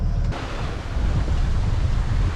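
Wind buffets the microphone and waves wash past the hull of a yacht sailing under its headsail off the Australian east coast near Townsville, a loud, steady roar throughout with no talk.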